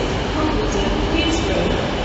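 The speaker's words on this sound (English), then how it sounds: "So this is my train," Train standing at a railway platform for the 12:40 service to Stoke-on-Trent, heard as a steady, fairly loud rumble and hiss of the engine and carriages that fills the whole stretch with no clear breaks.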